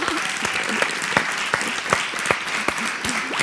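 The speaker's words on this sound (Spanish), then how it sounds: "Por favor, un aplauso para ella." Audience applause during an interview event with film director Paula Ortiz, moderately loud with distinct individual claps standing out from a steady crowd wash.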